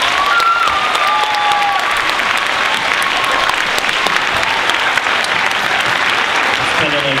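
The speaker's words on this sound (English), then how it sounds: "Let's give everybody a big round of applause." Families at a youth camp checkout session give a big round of applause, loud sustained clapping across the hall with a few whistles rising above it.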